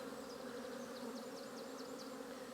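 A honeybee colony buzzes during an early spring hive inspection, a faint, steady drone of many bees with a few individual insects zipping past up close.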